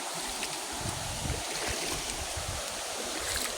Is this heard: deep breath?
no